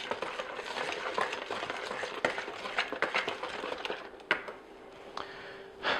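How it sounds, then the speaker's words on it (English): Cake batter of flour, sugar and baking powder is whisked in a bowl, close, irregular clinks and scrapes with brief pauses and no speech. "I'm going to slowly add that to this bowl, and we're going to whisk that as well"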